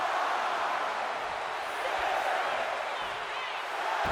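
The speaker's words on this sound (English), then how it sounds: "He's pumped up, and so is this crowd." A wrestling arena crowd in WWE 2K25 roars in a constant, dense wall of noise throughout, steady and loud with no breaks.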